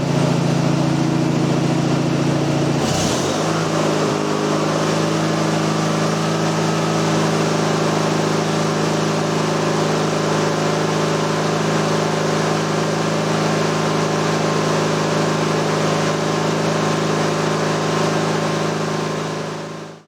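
Riding mower engine with a dual-circuit charging system at wide open throttle, a loud, close, steady drone that revs up early on, then holds constant before cutting off at the very end.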